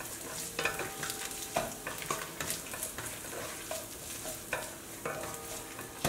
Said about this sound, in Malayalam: ഈ ജിഞ്ചർ ഗാർലിക് പേസ്റ്റിൻ്റെ പച്ചമണം മാറുന്ന വരെ നമുക്കിതൊന്ന് വഴറ്റിയെടുക്കാം.